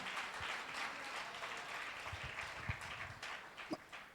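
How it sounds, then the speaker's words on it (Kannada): Church congregation at a Christmas service clapping together, a steady faint wash of applause with a few sharper claps standing out, heard from a distance. "ಅದಕ್ಕಾಗಿ ನಾವು ಜೋರಾಗಿ ಯೇಸುವಿಗೆ ಚಪ್ಪಾಳೆ ತಟ್ಟೋಣ"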